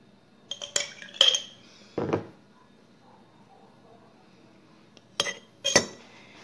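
Metal spoons clink and scrape against a bowl and jar while jam is scooped for cocoa cookie dough, a few sharp close clatters in separate bursts with quiet pauses between.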